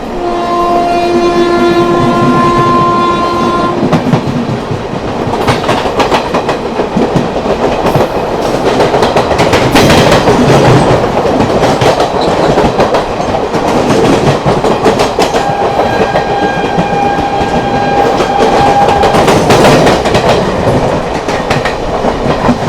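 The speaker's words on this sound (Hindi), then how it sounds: "क्या गजब का पैरेलल हो रहा है अपना पुरुषोत्तम एक्सप्रेस के साथ।" Two Indian express trains run side by side, the Mussoorie Express beside the Purushottam Express, in a loud, continuous roar of wheels and rattling coaches, with a sustained horn near the start and another later.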